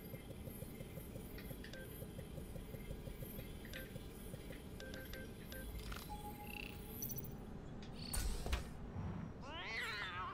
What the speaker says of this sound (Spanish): ¡Hay un gato!